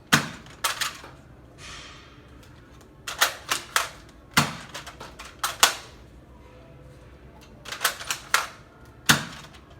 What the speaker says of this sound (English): now we fired 5 shots from the Hawkeye